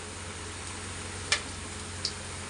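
French fries deep-frying in hot oil, a steady broadband sizzle throughout with two brief sharp pops, no talk.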